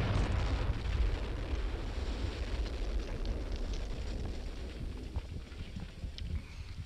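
A tank's ammunition compartment blowing up after a missile strike in the Steel Beasts tank simulator, a sustained low rumbling roar that slowly fades, heard from a distance with steady wind-like noise.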